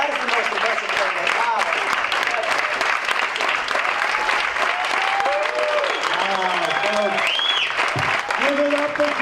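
An audience applauds at a live magic and card-trick show, with dense, sustained clapping throughout and voices and a few whoops rising over it.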